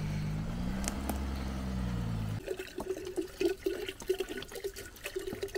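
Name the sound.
water being filled and poured out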